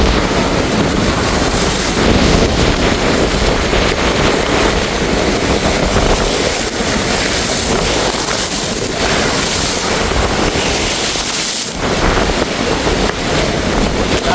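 Storm-driven sea waves surging at Keerimalai beach in Jaffna, a loud continuous roar of surf mixed with heavy wind buffeting the microphone, close and unbroken with no talk.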